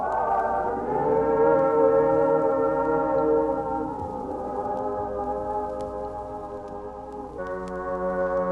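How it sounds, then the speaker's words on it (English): An old reed organ in a priest's home on the Pribilof Islands plays sustained, reedy chords, shifting pitch a few times in a slow, steady, moderately quiet passage. "The sound of an old reed organ in the home of the priest"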